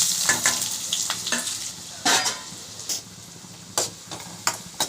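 Onions fry in oil with fennel seeds for an egg masala, a close, steady sizzle broken by repeated sharp scraping strokes of a spoon stirring the pan.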